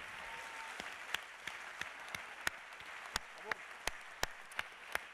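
Sustained audience applause at an awards ceremony fills the space, with a few louder individual claps popping out in a loose, regular rhythm.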